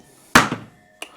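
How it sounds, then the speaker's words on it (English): A water leak detector tool striking the surface of a pipe: one loud close metallic hit with a short ringing decay, followed by a second lighter tap. "this thing works like hammer, and it hammers the surface of the pipe, creating an acoustic signal"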